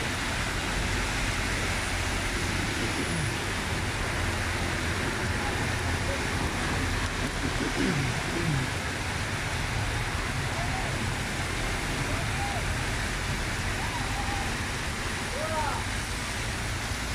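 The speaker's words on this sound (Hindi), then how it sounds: "देखो फिर से बारिश तेज हो गई है।" Heavy rain pouring down outdoors, a constant dense hiss that stays even from start to finish, with faint voices and scattered small sounds beneath it.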